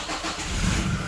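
A diesel car engine, from an Innova, Pajero or Fortuner, being checked for blow-by. It catches and settles into a loud, close, low rumble that swells slightly after half a second, with no talk over it.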